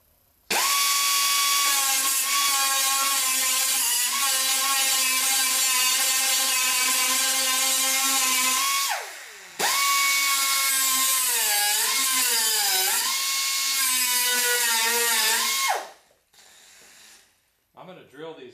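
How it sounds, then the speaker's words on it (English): A power grinder cuts down rivets on the window regulator of a 1979 Chevrolet El Camino, a loud, high-pitched whine running about eight seconds, stopping, then resuming with wavering pitch as the tool bites, heard close. "next we're going to grind some of these rivets down, get the rest of this regulator out of there."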